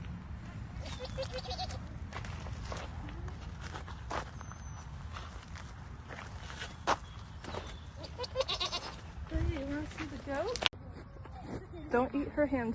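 A goat on a farm bleats several times close by, with footsteps, rustling and people talking around it.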